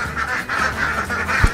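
Laying ducks quack at a duck farm, a dense chorus of overlapping nasal calls close by with steady flock noise under it, alone without speech.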